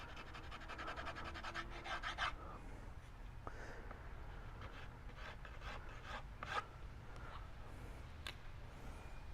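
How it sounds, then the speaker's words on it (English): Sandpaper rubbed over wood to strip off dried glue while building a shadowbox frame, heard as faint, steady rasping strokes that come in quick bursts and then ease off. "Get the glue off. You're going to sand it anyway"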